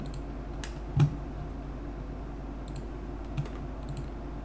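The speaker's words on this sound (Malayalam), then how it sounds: "രണ്ട് ഓണേഴ്സിൻ്റെയും അഡ്രസ്സ് നമ്മളിവിടെ ടൈപ്പ് ചെയ്ത് കൊടുക്കുക" A few sparse, soft clicks of keys on a computer keyboard as owner addresses are typed into an online property tax assessment form, quiet and close over a steady low hum, with no talking.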